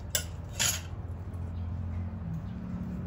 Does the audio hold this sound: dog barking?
no